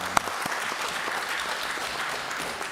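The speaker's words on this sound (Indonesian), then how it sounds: "Kita kasih tepuk tangan." Applause from members at a parliamentary commission session in Indonesia's DPR, a steady dense clapping that fills the short stretch after a single sharp gavel-like knock near the start, without talk over it.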